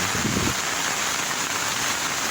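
Heavy rain pours steadily and loudly throughout, a dense broadband hiss with a brief low rumble near the start, during flooding where villagers cast nets.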